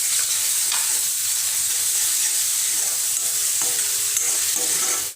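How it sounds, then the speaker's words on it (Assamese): Grated ginger, garlic and chopped onion sizzle loudly in a pan for a soy chunk curry, a steady hiss broken by occasional scrapes of a stirring spoon, with no talking. "আৰু এইখিনি এতিয়া মই আকৌ এবাৰ ভালকৈ ভাজি ল'ম"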